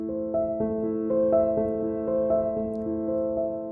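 Simple piano exercise played at a quicker tempo, a steady run of clear sustained notes struck in an even rhythm, close and moderately loud with no talking.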